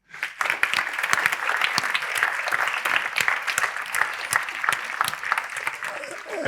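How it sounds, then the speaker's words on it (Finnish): A school audience applauds a proud team of sixth-graders at an information event, dense clapping starting abruptly and holding steady and fairly loud throughout. "On kapteenina ylpeä, hieno joukkue, ansaitsee aplodit."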